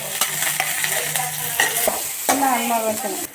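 Onion and curry leaves hit hot oil with fried garlic and chana dal in a pan, a close crackling sizzle with spoon scrapes and clatter that surges louder partway through, with no voices.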